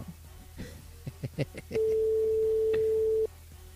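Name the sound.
telephone ringing on an outgoing call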